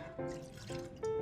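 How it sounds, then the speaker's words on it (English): Vinegar pours for pickling, a steady close liquid trickle and splash whose pitch rises slightly as the vessel fills. "We're going to start with equal parts vinegar"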